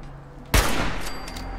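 A single sharp, loud gunshot from the Fallout 4 video game cracks out after a brief quiet moment, followed by a lingering echoing tail.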